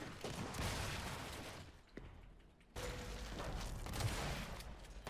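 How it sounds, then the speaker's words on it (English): Rapid gunfire from the video game Gears 5, dense bursts of shots filling most of the moment, with a brief lull partway before the firing resumes loud and close. "I'm getting shot by my own teammate."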